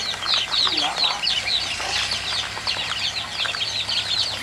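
Young ducklings feeding on red azolla: a dense, continuous chorus of high cheeping and chattering, close and fairly loud, over a low background hum.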